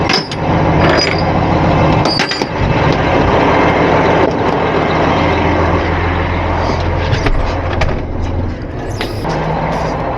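A truck hauling a shipping container across snowy flat ground, its diesel engine rumbling loudly and steadily with clanks and mechanical knocks over the drone.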